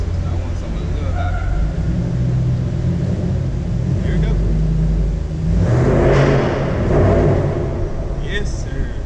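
A loud car engine rumbles and revs through its exhaust pipes, rising in pitch around the middle as it accelerates, with a throaty exhaust tone and a voice faintly underneath.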